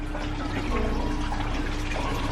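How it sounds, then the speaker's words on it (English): Water streaming off the wringer rollers of a vintage washing machine back into its tub, a steady, loud, continuous splashing pour with no talking. "all of that water coming off just goes straight back into the tub"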